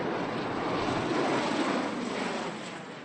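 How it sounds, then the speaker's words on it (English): An Osprey tiltrotor aircraft, a vertical takeoff and landing craft, roars overhead with a broad, continuous engine rumble that stays loud and steady, then eases off slightly near the end. "That was a vertical takeoff and landing craft called the Osprey"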